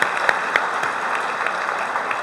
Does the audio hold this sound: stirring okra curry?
no